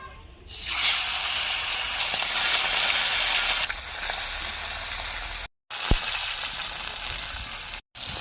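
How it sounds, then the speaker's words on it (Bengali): Loud, steady sizzling of small fresh pond fish frying in hot mustard oil, a dense crackle that briefly cuts out twice. "এবার মাছগুলো আমি তেলে ভেজে নিচ্ছি"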